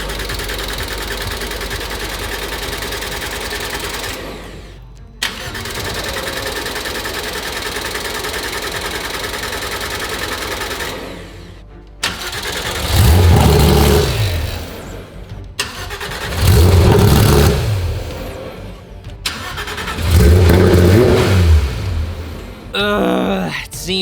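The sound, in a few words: Porsche GT3 RS engine first start and revving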